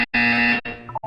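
Loud electronic buzzer from the Portal 2 video game, a sustained harsh tone lasting about half a second, followed by shorter softer beeping tones.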